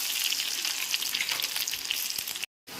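Chopped small onions fry in a pan with a steady, dense sizzle that continues close up, then cuts out for a brief moment near the end before resuming.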